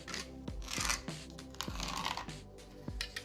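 Short scratchy strokes of a pencil drawing a cut line along a level on a wall during a farmhouse renovation, several quick marks close up with light knocks between them.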